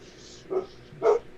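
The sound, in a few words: dog barking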